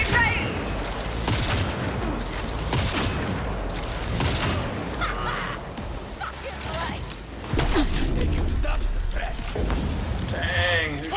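Dense overlapping gunfire bursts in Escape from Tarkov, loud and continuous, mixed with game sounds and chatter, with people talking over the shooting throughout.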